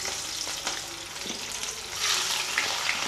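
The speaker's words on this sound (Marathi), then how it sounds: "आता आपण या फणसाच्या फोडी या तेलामध्ये टाकून घेणार आहोत।" Pieces of jackfruit fry in hot oil, a steady crackling sizzle close by that swells louder midway, with faint stirring scrapes and no talking.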